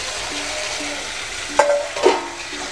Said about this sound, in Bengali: এর মধ্যে এবার আমি ভেজে রাখা আলুগুলোকে দিয়ে দিলাম।